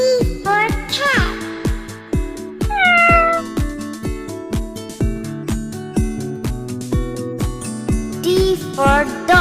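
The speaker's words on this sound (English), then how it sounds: "C for cat" A cat meows several times, with short rising and falling cries over a bouncy musical backing, fairly loud and clear.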